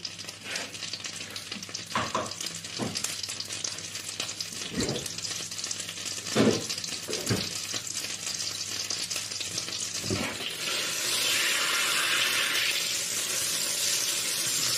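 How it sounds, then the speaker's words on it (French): Butter and oil sizzle steadily in a pan over the heat for soup à l'oignon, with occasional utensil knocks and stirring, then a brighter, louder hiss near the end. "vous entendez le beurre et l'huile qui jouent sur le feu"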